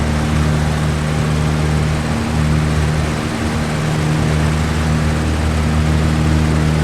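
A simulated propeller aircraft climbs after takeoff in the X-Plane flight simulator with a loud, steady engine and propeller drone that holds at a constant level throughout, with no talking.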